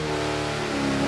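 Race car engine, the RHR Hellcat drag car at a Lonestar Rivals event, running steady and loud with a deep, stout harmonic drone held throughout, no voices over it.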